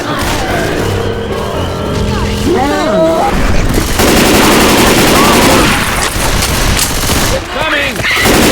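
Dense, rapid gunfire in Left 4 Dead 2, loud sustained bursts of automatic shots near and constant, mixed with game effects and some voices.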